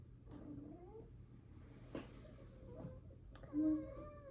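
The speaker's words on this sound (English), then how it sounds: "It's my kitty." A pet cat meows softly a few times, faint and close, over quiet room tone, with one louder, drawn-out meow near the end.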